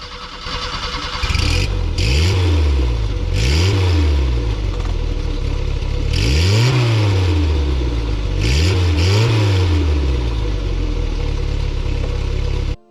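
A Fiat 850 Special small classic car engine revs repeatedly, several rising and falling bursts over a steady idle, loud and close.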